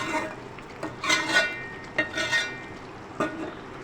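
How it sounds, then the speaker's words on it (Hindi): Yogurt being stirred into chicken curry gravy in a pan over high heat: a spoon makes scraping, swishing strokes in short bursts, with a soft sizzle underneath. "दही को हमने अच्छी तरह मिक्स कर लेना है कि कहीं से भी दही की फुटकी इसके अंदर शोरबे में ना आए"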